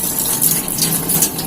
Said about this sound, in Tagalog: Tatanggalin nyo na yung tubig. Siyempre, gagamitan nyo ng yung kamay nyo.